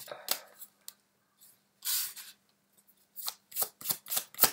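Tarot cards shuffled by hand in quick, dry riffling bursts, close and fairly quiet, with short pauses between flurries and a soft voice heard at one point.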